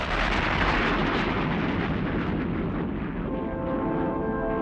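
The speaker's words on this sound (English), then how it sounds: "the original explosion, the Big Bang, which we believe created the universe 12 to 15 billion years ago" A huge, roaring Big Bang explosion effect for an animated documentary, a dense rumbling blast that stays loud and sustained throughout, with a tonal hum emerging toward the end and no voices.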